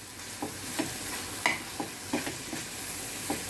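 Bitter gourd with chili powder and salt being stirred in a pan, soft sizzling throughout with repeated light scraping strokes at an even rhythm, close and fairly quiet.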